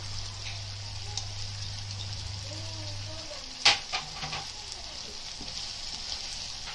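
Chopped leafy greens (bhaji) tossed into a hot pan for soya and potato sabzi on a gas stove, giving a steady close sizzling hiss with a sharp clatter as they land, then quieter crackling.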